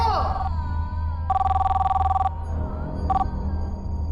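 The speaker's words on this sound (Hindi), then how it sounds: "शुभ्रा देखो तो का फोन" A telephone rings in electronic bursts, a long trill followed by a shorter one, over steady low background hum and faint voices.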